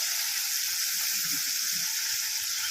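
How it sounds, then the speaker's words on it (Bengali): Ground tomato, onion and ginger-garlic spice paste sizzles steadily in hot oil for a sea crab dish, a continuous bright frying hiss with no voices. "তেল গরম হয়ে গেছে এবারে আমি দিয়ে দিচ্ছি সে বেটে রাখা মশলাগুলো টমেটো পেঁয়াজ আর আদা রসুন"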